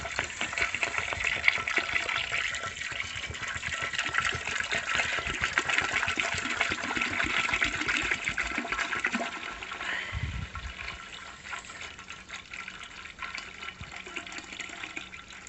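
A gallon of apple cider is poured out in a steady, gurgling stream, fairly quiet and close, running for about fifteen seconds and easing slightly near the end.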